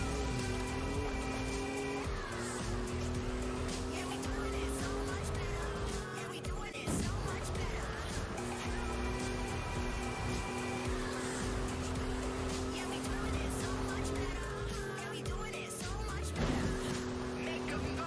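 Car engine in a driving video game, a Ford Bronco on a volcano route, holding steady tones that climb and drop back through gear shifts over several cycles, with music and busy background sound continuous throughout.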